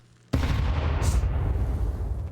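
Pistol gunfire in Counter-Strike 2 begins abruptly with a loud crack, followed by dense overlapping shots and rumbling blasts that fill the rest of the short stretch, close and without talk.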